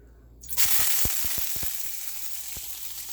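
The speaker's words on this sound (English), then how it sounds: "And I'm gonna start searing these." Food hits hot olive oil in a pan with a sudden loud sizzle that settles into steady frying, broken by a few sharp pops and crackles.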